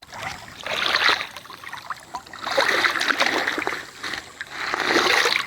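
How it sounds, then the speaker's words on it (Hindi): Tubewell water pours into a maize field with a steady, rushing splash that swells and eases in repeated waves, fairly soft and heard alone. "मक्की में पानी जा रहा है।"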